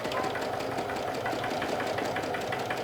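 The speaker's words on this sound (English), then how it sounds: "sew as close as possible to the cord part of the piping." A sewing machine stitches piping onto a cotton bucket hat, its needle running in a steady, fast mechanical rhythm close by, continuous for the whole stretch with no talking.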